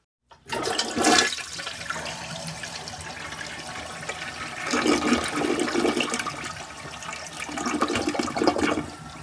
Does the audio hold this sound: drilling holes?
no